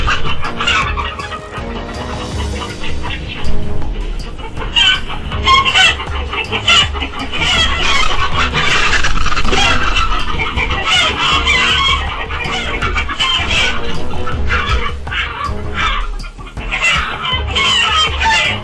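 Chickens cluck and squawk on a farm, with many birds heard together, continuous and fairly loud, mixed with dense background sound and no speech.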